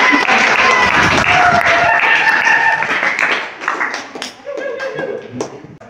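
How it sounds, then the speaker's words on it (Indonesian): Students in a classroom clap together, a brisk burst of mixed hand claps that fades into scattered taps, with voices talking over it. "tepuk tangan tuh yuk."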